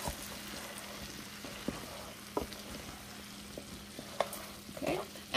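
Shrimp, sausage and potatoes sizzle steadily in a frying pan while a utensil stirs and scrapes through them. The scrapes come in occasional soft clicks, with a couple of louder knocks near the end.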